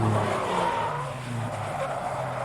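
A Nissan S13 drift car understeers off track at a chicane during a Pro Am drift event at Raleigh Motorsport Complex, with loud tire squeal and skidding over a droning engine, continuous and fairly close.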